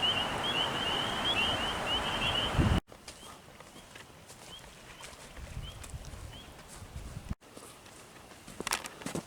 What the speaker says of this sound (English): Hear the frogs singing over there.